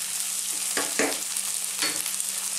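Onions fry on high heat while being stirred constantly, a steady loud sizzle with a few scraping stirs breaking through, close up and with no voices.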